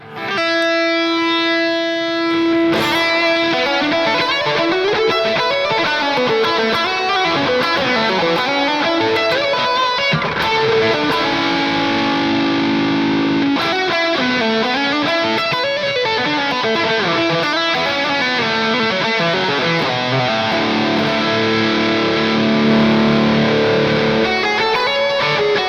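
Electric guitar through a NUX MG-30 multi-effects unit with pan delay and hall reverb blended in, a steady flowing passage of chords and melodic lines with echoing repeats and a spacious wash.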